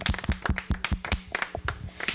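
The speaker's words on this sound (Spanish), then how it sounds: "Un aplauso a la maestra, por favor." Applause for a teacher after a school theatre performance: a short burst of fairly faint, uneven clapping from a small group, heard alone without talk.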